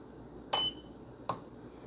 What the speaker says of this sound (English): that beep you hear is the kind of automatic current sensing